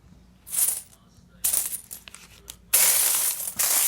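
Coins from opened piggy banks clinking, several bright metallic jingling bursts as handfuls spill and shift, close and moderately loud with quiet gaps between.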